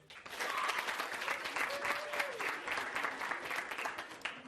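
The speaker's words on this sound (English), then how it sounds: "you can tell who they are because they clap like this" A large audience claps loudly and steadily at a high school fall sports banquet honoring volleyball, cross country and girls golf, a dense continuous wash of clapping, with a brief whistle-like voice rising above it.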